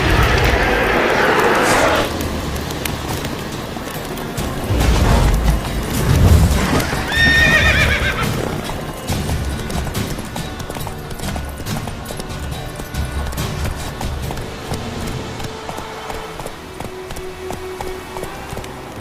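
Roach, a horse in The Witcher 3 video game, gallops with steady clip-clop hoofbeats and gives a clear, loud neigh partway through, over continuous game ambience.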